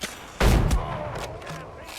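A gunshot in the video game Windrose lands a headshot, a single loud, sharp blast with a booming low tail that decays over half a second against steady game ambience.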